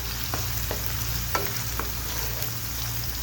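Potatoes frying in a pan for an egg-and-potato breakfast as onions go in, a steady sizzle with a few soft stirring taps.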